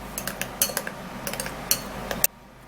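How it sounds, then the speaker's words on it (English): A spoon stirring a coconut oil and baking soda mixture in a small container, irregular quick metallic clinks and scrapes close up, ending abruptly into quiet. "We'll now stir it really well for all of the ingredients to mix together."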